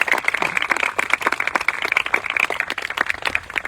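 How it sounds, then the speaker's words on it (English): A community band concert audience claps for the sponsor with sustained, dense applause from many hands, steady throughout at moderate loudness. "we can applaud their generosity"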